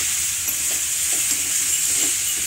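Brinjal with stems still on is stirred in a cooking pan with turmeric and spices, a soft, continuous sizzle and frying hiss under gentle scraping strokes of the spoon, close up and with no voices.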